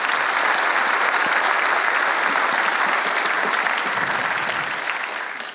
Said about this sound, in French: j'aimerais beaucoup qu'on l'applaudisse pour avoir eu ce courage